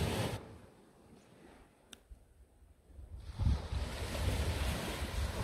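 Sea waves wash onto a sunny shore, a soft retreating hiss that swells into a louder, rushing surge toward the end, with gusts of wind buffeting the microphone.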